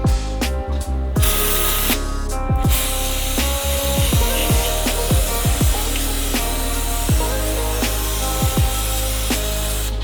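Brake cleaner sprays from an aerosol can onto Subaru WRX STI suspension parts, a loud continuous close hiss broken by brief pauses, with faint metallic clicks and knocks beneath.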